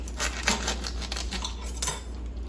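A knife slices open a packet of Pomar fruit pulp made only of water and fruit, giving a few quick scraping, clinking cuts at close range with no one talking.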